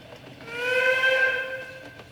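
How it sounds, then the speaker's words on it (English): A steam locomotive whistle in the railway video game Steam & Steel Gold Rush gives one loud, sustained, harmonically rich blast that swells and fades over about two seconds, heard alone. "That is an amazing whistle on this thing."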